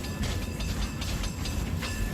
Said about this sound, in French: Oh, le cable car. Autrement dit, tramway.